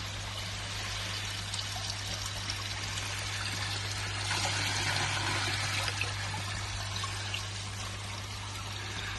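Acriflavine treatment is poured into an outdoor koi pond, a steady splashing pour over a constant low pump hum, close and continuous with no talking.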